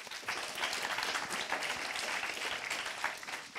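Audience applause after a youth session presenter at a Global Landscapes Forum event, steady dense clapping sustained throughout at moderate loudness with no talk over it.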